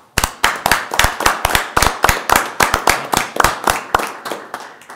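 A small group at a county board meeting gives a round of applause for a state-level award recipient: crisp, close hand claps repeating in a fairly even rhythm, with little else behind them.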